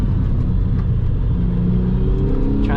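A 2002 Porsche 996 911 Targa rumbles loudly and close on a canyon road, the engine note dropping and then blipping upward near the end during a heel-toe downshift.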